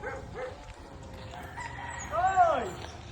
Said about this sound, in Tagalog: Daming manok.